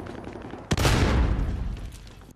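A single loud gunshot blast in Call of Duty Warzone on the Caldera map during team deathmatch: a sharp crack breaks a quiet moment, then a heavy rumbling tail fades slowly.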